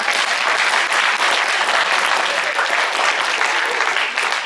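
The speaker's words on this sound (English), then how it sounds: "That deserves applause." Loud, dense applause from a high school post-prom crowd in Fairfield, Kansas, a continuous close wash of many hands clapping at an even level from start to finish.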